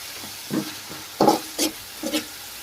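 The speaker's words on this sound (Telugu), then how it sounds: "ఈ విధంగా చిన్నగా మనం వేయించుకుంటూ ఉండాలన్నమాట" Chicken roast frying with ginger paste in a pan for a hotel-style dish, heard as a soft sizzle broken by four or five separate scraping stir strokes close by.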